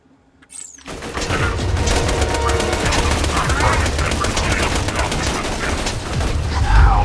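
Rapid gunfire in the video game Borderlands 2, a shotgun among the weapons, with dense overlapping blasts that run continuously and loudly from about one second to the end, with no gaps or talk.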